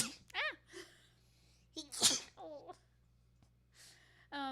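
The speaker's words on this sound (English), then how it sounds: "I have to sneeze." A single sharp sneeze bursts out midway, surrounded by breathy vocal sounds and brief exclamations in a quiet room.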